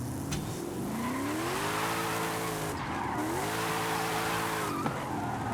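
A car drifting in Forza Horizon 5, its engine revving in loud continuous sweeps that rise, fall and climb again, with sustained tire squeal and skidding throughout and no talking.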